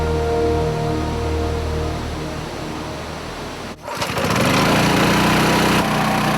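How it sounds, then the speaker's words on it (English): A compressor fills dive tanks with air in a steady, loud mechanical drone with tonal hum; partway through the pitch drops briefly, then the machine resumes with a harsher, denser roar. "The compressor fills the tanks with clean air"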